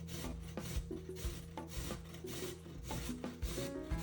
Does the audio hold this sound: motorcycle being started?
no